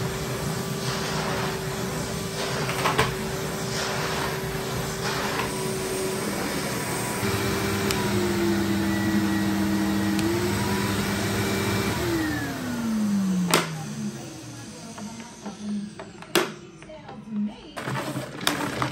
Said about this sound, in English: These things are super powerful vacuum cleaners.